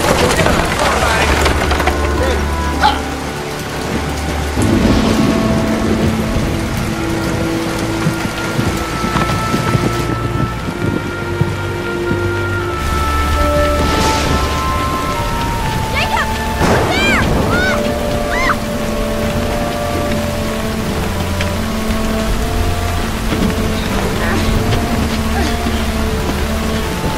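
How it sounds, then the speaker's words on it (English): Steady rain falls throughout as a constant hiss, with low rumbles like distant thunder, under people talking. "Just gonna stay here till the rain stops."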